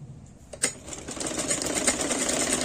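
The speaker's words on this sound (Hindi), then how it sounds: "फिर यहाँ पर फिटिंग की सिलाई लगानी है इस तरह से।" A sewing machine stitching the fitting seam of an A-line petticoat, starting after a sharp click and running as a fast, steady mechanical chatter that builds slightly and continues to the end.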